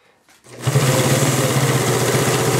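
A 1951 Pfaff 130 sewing machine stitching through thick denim starts after a brief near-silence, then runs in a fast, steady mechanical chatter at close range.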